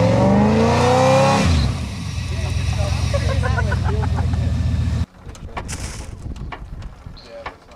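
A stuck car engine revs hard while trying to drive forward, a steady droning roar under people talking, then cutting off abruptly into quieter rustling and clicks.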